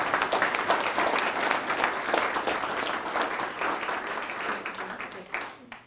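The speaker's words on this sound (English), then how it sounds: "let's give a huge round of applause for a great example of a young volunteer." Town hall audience applauding a young volunteer being honored with a certificate, a dense sustained clapping that holds steady for several seconds before tapering off at the end.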